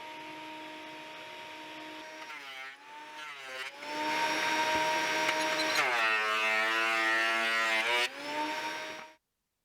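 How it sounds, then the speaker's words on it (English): A thickness planer running wooden frame boards down to one inch, a loud whining motor drone with its pitch dipping as each board feeds through the cutter, then winding down into silence at the end. "I finish planing these to 1 inch thickness."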